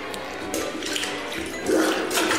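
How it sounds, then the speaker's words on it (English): Water splashes and gushes from a flooded toilet in a men's restroom, a steady wash of close splattering that swells briefly louder toward the end. "You hear the water splashing everywhere."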